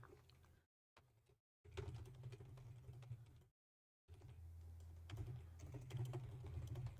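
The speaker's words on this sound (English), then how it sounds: "hold on, I'm typing." Faint keystrokes on a computer keyboard patter in quick, uneven bursts, broken by short silent gaps, over a quiet game soundtrack.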